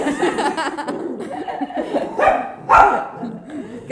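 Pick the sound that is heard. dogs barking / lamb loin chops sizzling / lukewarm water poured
dogs barking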